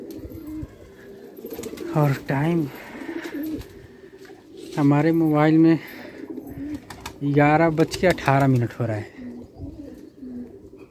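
Pigeons coo close by in several bursts of soft, throaty, rolling calls, with a person speaking between and over them.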